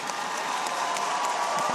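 A crowd applauds steadily after a curling match at the Winter Universiade in Krasnoyarsk, a continuous wash of clapping with faint cheering in an arena, while a commentator talks over it.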